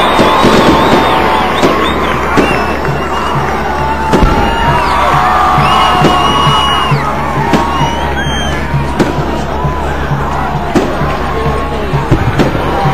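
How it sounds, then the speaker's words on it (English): Fireworks pop and crackle after a national anthem played by a band at a school sports event, the bursts mixed into loud crowd chatter and cheering, with voices talking throughout. "Got a few fireworks going on here."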